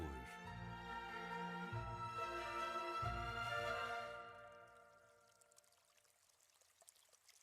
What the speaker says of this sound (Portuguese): O rio Ovil é o principal curso de água que nasce na Aboboreira.